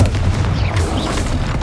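A Confringo fire spell explodes in the Hogwarts Legacy video game, a dense continuous booming rumble of blasts with crackling on top, loud and close, sustained through the whole moment with no clear voices.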